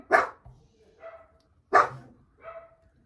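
A dog indoors barks twice, loud and close, with each bark followed by a softer trailing yelp and a pause between the two.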